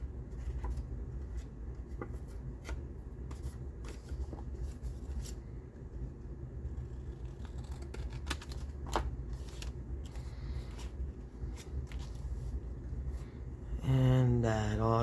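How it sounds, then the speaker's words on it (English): Paper being trimmed with scissors for a handmade folio: a series of light snipping and rustling sounds at an irregular pace, close and soft, ending in a louder burst of paper handling, with no talking. "let's cut off just a smidge there"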